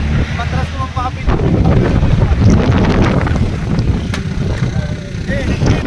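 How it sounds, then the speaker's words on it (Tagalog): Strong gusting wind buffets the microphone during a motorcycle ride on the Apayao-Solsona mountain road in wind and rain, a loud continuous roar with rumble, and a voice speaks briefly under it. "malakas na rin yung hangin at malakas na rin yung ulan"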